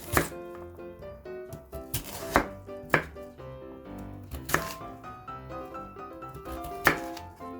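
A radish being diced with a knife into small cubes on a cutting board for kkakdugi kimchi: steady, close knife chops with sharp louder thunks scattered through, no talking.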